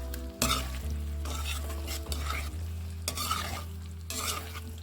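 Chili mushrooms tossed with chili flakes in a hot pan, with loud scraping stirs and clattering over a constant close sizzle, and no talking.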